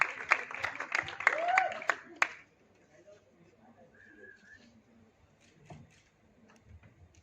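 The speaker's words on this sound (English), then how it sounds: "Put your hands together for Mrunal." Audience at a film trailer launch event breaks into a burst of clapping for about two seconds, then it drops away to a quiet room with faint murmurs.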